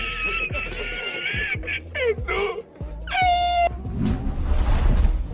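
A cat meows several times in a row, each call loud and close with a rising or falling pitch. A low rumble and noise fill the background toward the end.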